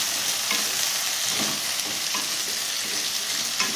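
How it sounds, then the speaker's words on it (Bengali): Diced potatoes and shelled peas frying in mustard oil in a wok give a steady, close, even sizzle with faint scrapes of stirring, and no voices. "সর্ষের তেল কড়াতে দিয়ে এগুলো আমি দিয়ে দিলাম। এটাকে একটু ভাজবো।"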